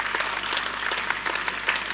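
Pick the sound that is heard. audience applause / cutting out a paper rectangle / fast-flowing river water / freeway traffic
audience applause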